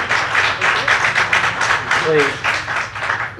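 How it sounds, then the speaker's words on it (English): Audience applause breaks out at a public city planning commission meeting, a steady patter of clapping from many hands filling the room throughout, with a voice speaking briefly partway through. "You don't have to applaud"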